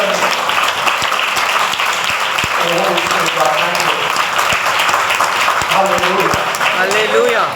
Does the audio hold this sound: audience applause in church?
yes